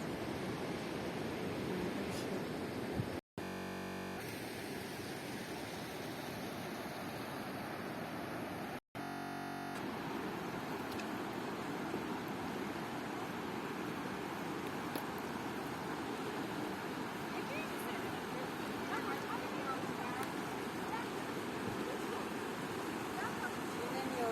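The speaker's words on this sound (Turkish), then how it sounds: "Küp şelalelerine vardık çok şükür." The Küp waterfalls in Aladağ roar with a constant broad wash of falling water, loud and close, steady throughout with two brief dropouts.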